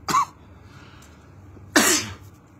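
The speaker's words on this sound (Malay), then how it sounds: "batuk" Two harsh coughs close to the listener in Makkah during the Hajj season, a short one and then a longer, raspier one about a second and a half later.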